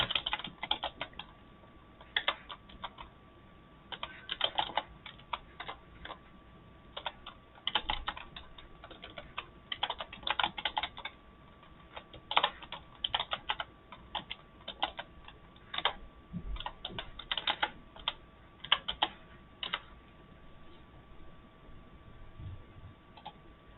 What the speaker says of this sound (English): I'm gonna go type something real quick.